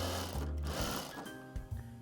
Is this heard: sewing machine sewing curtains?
yes